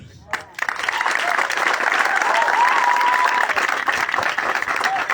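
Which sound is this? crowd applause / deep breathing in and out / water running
crowd applause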